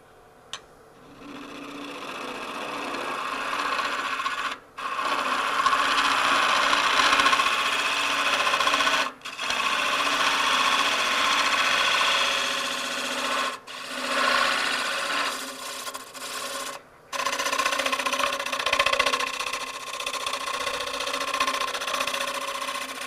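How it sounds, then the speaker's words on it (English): Wood lathe turning a bowl while a gouge cuts shavings, a steady loud broadband whirring drone broken by a few brief pauses as the tool lifts off. "we're going to keep this slightly below center and pull through the cut very slowly, trying to take off just a little bit of wood"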